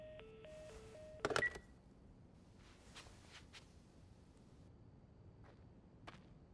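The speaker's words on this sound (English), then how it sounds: "Phone's dead." Dead landline telephone dialed in The Last of Us: a quick series of keypad tones, then a short sharp clatter as the handset is handled, followed by faint scattered thumps in a quiet room.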